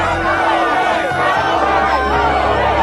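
A crowd of activists gathered at a shutdown work site, a loud continuous hubbub of chatter and shouting voices with a low rumble underneath.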